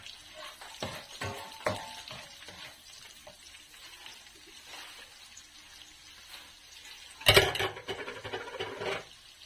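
Onion fries in a pan while carbonara is being made, a low steady sizzle with occasional stirring scrapes and a louder burst of sizzling near the end.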